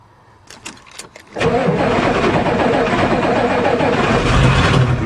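A Ford truck running on two weak batteries cranks with a few short starter bursts, then catches and settles into a steady, loud running engine that holds close to the end.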